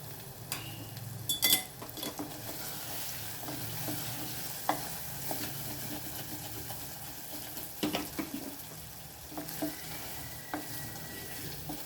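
Sliced bitter gourd sizzles in hot oil in a pan, with scraping stirs and light clinks of the spatula over a steady frying hiss, close and fairly quiet.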